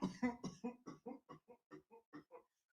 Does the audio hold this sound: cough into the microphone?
yes